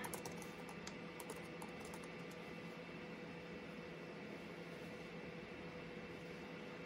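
Typing on a computer keyboard to enter a terminal command, faint rapid key clicks in a short burst near the start over a steady machine hum, then only the hum continues.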